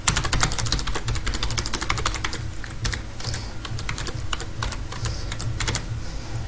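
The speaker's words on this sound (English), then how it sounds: "Basically you have to type the alphabet as quickly as you can" Rapid, steady clatter of keys on a computer keyboard, dozens of crisp close-up taps in quick succession, with a slight slowdown midway.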